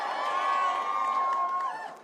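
Large crowd cheering and shouting at a New Jersey election night rally, a continuous loud roar with a sustained whistle or held tone running through it, fading slightly at the end.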